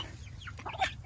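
Chickens cluck in short, close bursts while pecking at leftover ham, a few sharp calls rising near the end of a brief, busy moment.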